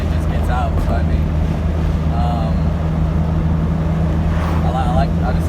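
Toyota MR2 with a swapped Honda K24 engine pulling hard in first gear, a steady loud droning engine note with wind buffeting throughout.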